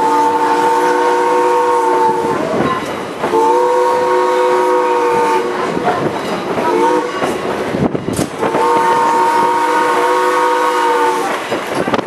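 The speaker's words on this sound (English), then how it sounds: "The locomotive will be passing by on the parking lot side of the train" A Strasburg Railroad steam locomotive passes loudly and close, sounding long, chord-like whistle blasts three times over the heavy rumble and hiss of the train.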